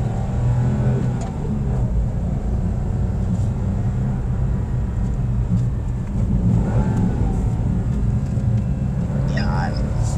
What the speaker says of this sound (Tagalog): gusto tumahimik lang ako, gustong pakinggan yung makina